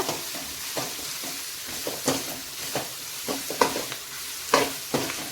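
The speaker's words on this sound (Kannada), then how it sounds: "ಓನ್ಲಿ ವೆಜ್ ಫ್ರೈಡ್ ರೈಸ್ ಮಾಡ್ತಾ ಇದ್ದೀನಿ" Veg fried rice stir-fried in a pan with garam masala, a soft steady sizzle broken by repeated scraping strokes of the spatula at an irregular rhythm, close and alone.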